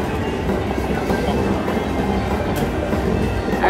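A train bonus sound effect from a Luxury Line slot machine at a Hard Rock casino plays as a loud, continuous rumbling, clattering train noise, steady throughout with casino din beneath.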